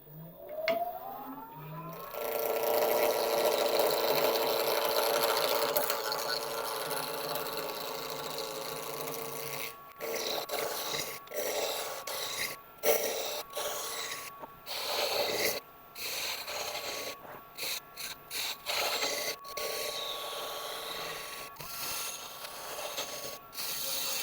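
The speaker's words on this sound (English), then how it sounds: "So we'll get this one round initially with the carbide tool" A small wood lathe spins a workpiece while a carbide tool cuts it round, giving a close whirring scrape that is steady at first and then breaks into short, repeated bursts as the cutter touches and lifts.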